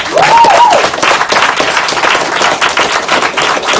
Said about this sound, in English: could you guys please give George another round of applause?